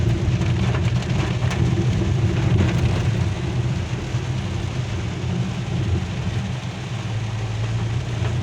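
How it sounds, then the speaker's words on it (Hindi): Heavy rain pours down at night while driving through the hills around Nainital, a constant, loud hiss with a low rumble beneath, steady throughout and without voices. "नैनीताल में ऐसी बारिश होती है जो कि हमने कभी देखी नहीं है"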